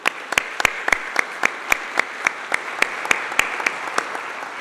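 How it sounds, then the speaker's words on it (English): Sparse, evenly spaced claps ring out in a room at a leadership awards event, a small audience applauding with crisp individual hand claps in a steady rhythm. "I'd just like to have everybody give him a round of applause"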